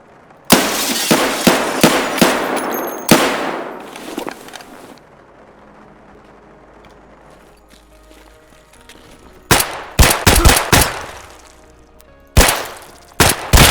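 Bursts of P226R pistol fire in the game Escape From Tarkov, loud sharp repeated shots in quick clusters near the start, then a quieter gap before more rapid shots toward the end, with no talking.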